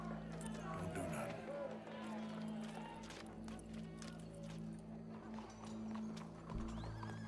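Horse hooves clop along with a horse whinnying amid an old film scene, the rhythmic steps sounding faintly under a steady low hum, voices and crowd noise.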